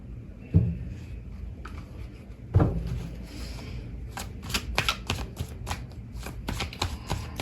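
Tarot cards are shuffled and drawn during a reading, first with a couple of soft thumps of the deck, then a quick burst of rapid flicking riffles, close and clear with no talking.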